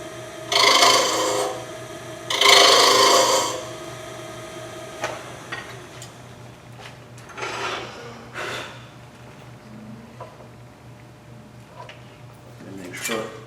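A hand tool cuts into a small wooden cutoff spinning on a lathe to hollow it, giving two loud rasping bursts near the start, then lighter intermittent scraping passes over a steady low motor hum.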